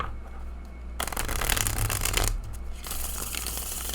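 Thick cardstock tarot cards being shuffled up close, a loud dense riffling burst in the middle between softer handling rustles, with no talking.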